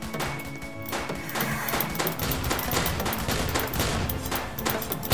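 Rapid gunfire rattles from a shotgun and other weapons in a Roblox zombie shooter game, with dense repeated shots and bursts running continuously at moderate loudness.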